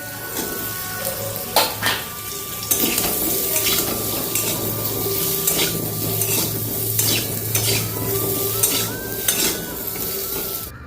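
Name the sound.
eggplant and potatoes frying in a little oil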